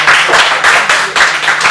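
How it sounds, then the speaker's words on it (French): A crowd at the Métro nightclub in Gabon claps rhythmically in loud, pulsing waves, close and continuous with no voices over it. "Un tonnerre d'applaudissements pour le métro"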